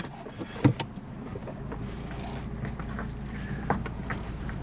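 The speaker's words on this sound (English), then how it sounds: "So I'm gonna take it on the quick test drive and see how it drives" A 2014 Ford Focus on a test drive after a rebuild, with a steady low engine and road drone inside the cabin, a few light clicks and interior rattles over it, and no talking.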